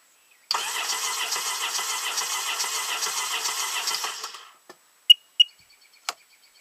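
A Sea-Doo Wake 215 watercraft engine cranks over steadily in a compression test, its even starter churning running about four seconds before winding down, followed by a few sharp clicks and taps.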